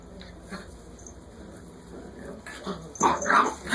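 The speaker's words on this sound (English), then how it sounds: "These are new puppies at Taps." Eight-week-old pit mix puppies at a shelter whimper and yip softly over background noise, with louder, busier cries near the end.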